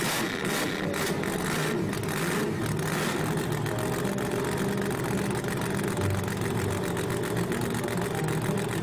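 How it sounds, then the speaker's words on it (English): A cartoon monster truck engine starts with a few rough bursts, then settles into a steady, rumbling idle that holds at an even level throughout. "Start the engine."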